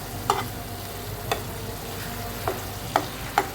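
Spice paste sautéing in a pan just after aubergine goes in, a low steady sizzle punctuated by four or five sharp utensil taps against the pan, no voices.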